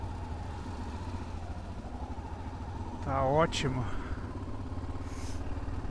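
A Yamaha Ténéré motorcycle engine drones steadily underneath wind rush while riding, with a brief spoken phrase partway through.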